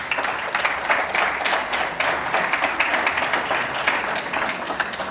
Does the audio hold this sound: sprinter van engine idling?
no